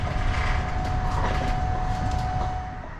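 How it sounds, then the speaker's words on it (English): Steady rumbling and rattling from beneath a new Dutch high-speed train carriage in motion, loud and continuous, with a faint high whine running through it. "I endured a constant rattling sound from beneath the carriage"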